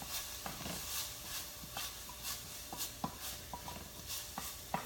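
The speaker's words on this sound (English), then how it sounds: "I think you can hear it. The onions, you just need to cook it a little bit until they're translucent" Onions sauté with curry and cumin seasonings, a steady close sizzle with rhythmic stirring scrapes recurring about every half second, quiet and without talk.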